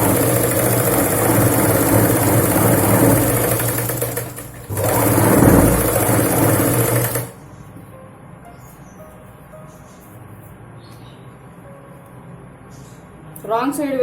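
A sewing machine stitches the sleeves onto a Punjabi dress, running in a loud steady whir that pauses briefly, then stops, leaving quiet room tone with a short sound near the end.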